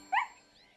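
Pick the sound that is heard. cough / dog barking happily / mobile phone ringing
dog barking happily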